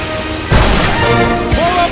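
In the animated Planes video game, a crop-dusting plow smashes through a dam with a heavy crash, followed by a second impact and rumbling debris and a voice speaking underneath.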